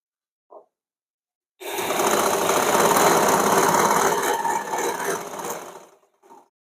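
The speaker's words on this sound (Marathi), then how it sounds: "अस्तरच्या कपड्याला आपल्याला इथे दाब शिलाई टाकायची आहे" A sewing machine running a single continuous burst of about four seconds, stitching blouse lining fabric, a close, loud mechanical whir with quick needle rhythm, bracketed by faint clicks before and after.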